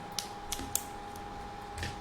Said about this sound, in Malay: So sekarang nak pasang keyboard.